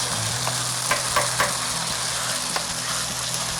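Masala for an Afghani karahi fries in a karahi, giving a dense, constant sizzle close up, with a few soft scraping stirs and no voices.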